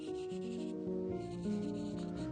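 A pencil rubs in broad, steady shading strokes over the hair of a portrait drawing, a soft, close scratching texture with no voices.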